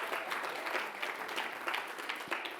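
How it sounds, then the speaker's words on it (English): Applause from a lecture audience at a community presentation on racism and education, a steady dense wash of clapping lasting a few seconds at moderate distance, with no talk over it. "You can clap that up."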